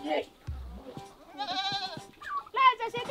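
Goats bleat several times nearby, wavering cries coming in short bursts, mixed with quiet farmyard sounds.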